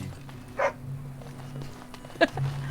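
Dog in the video game Dragon Age: Origins giving two short, sharp yelps or barks with soft whimpering between them over low ambient hum.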